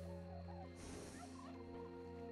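Turkeys gobble in the video game Red Dead Redemption 2, a faint burst of rapid warbling calls rising over a steady low in-game drone.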